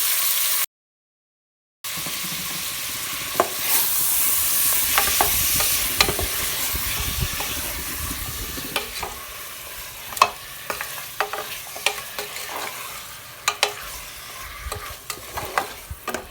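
Mutton pieces sauté in oil in a pan with a continuous close sizzle, then scattered sharp scrapes and clinks of a spoon stirring against the pan, getting sparser toward the end, with no talk.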